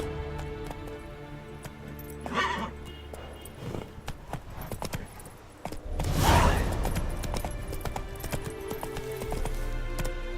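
Galloping horse in The Witcher 3, a steady clip-clop of hooves running throughout against a layered game soundscape, with a louder rushing swell midway.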